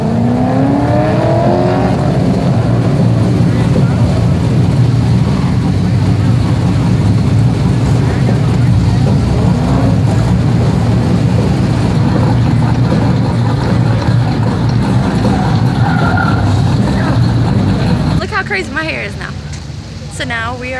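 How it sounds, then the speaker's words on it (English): Several car engines, including Camaros, rumble and rev nearby at a car show, steady and loud, with a sharper burst of revving near the end. "we hear revving engine"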